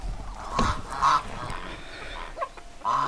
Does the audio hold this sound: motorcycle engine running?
no